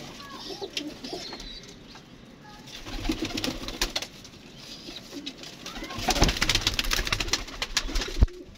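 Pigeons kept by a fancier coo softly in a loft, low murmuring calls scattered among rustling and a few sharp knocks and wing sounds, fairly faint and close.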